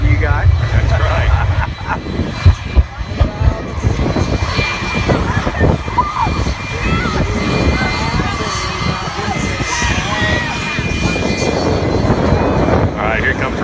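A propeller aircraft at an air show flies donut loops over the south end of an airfield, its loud engine roaring and droning continuously with wind buffeting and a crowd faintly audible beneath.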